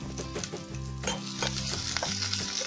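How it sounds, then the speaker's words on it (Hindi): Ginger, garlic and green chili sautéing briefly in oil in a pan for potato Manchurian, a close continuous sizzle with quick stirring scrapes over a bed of background music. "इसमें जिंजर गार्लिक डालेंगे, ग्रीन चिली, और इसको फ्यू सेकंड्स के लिए सॉटे कर लेंगे"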